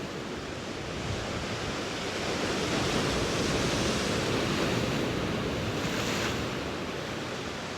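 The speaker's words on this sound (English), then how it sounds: "Couple of sets with more waves." Ocean waves break on the shore at Ventnor in a cold breeze, a steady roar of surf that swells louder through the middle as a set rolls in, then eases slightly.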